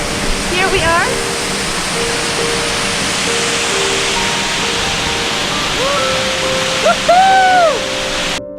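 A river flows through the woods of Norway, giving a steady loud rush of water throughout. Brief voice-like calls and chirps sound faintly over it.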